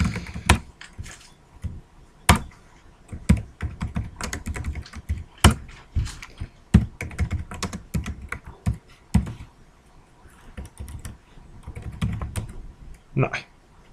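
Rapid typing on a computer keyboard during a telnet session in a lecture setting, with irregular clusters of sharp key clicks and a few louder thunks, close and clear, with faint room noise and no speech over it.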